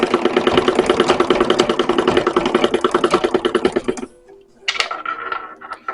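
A chain stitch sewing machine runs at a steady, rapid clatter of evenly spaced stitches, loud and close, then stops abruptly for a brief quieter pause of handling noise.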